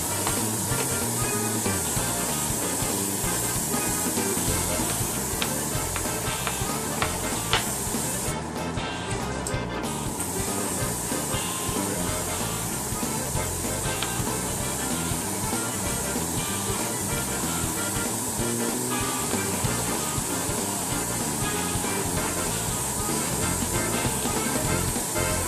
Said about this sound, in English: Now I'm just going to start spraying her down.